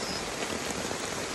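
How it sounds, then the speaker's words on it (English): Rain patters densely and steadily on a tarp over a hammock at a jungle camp in Equatorial Guinea, a close, even hiss of drops with no talk. "the minute it started raining"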